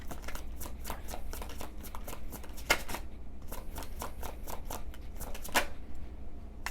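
A deck of tarot cards is shuffled by hand, giving soft, quiet riffles and crisp slaps that come in irregular bursts, close up, with no voices.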